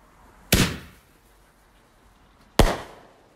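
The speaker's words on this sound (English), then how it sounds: "fireworks." Two sharp firework bangs about two seconds apart, each ringing out with a long decaying echo over quiet outdoor background.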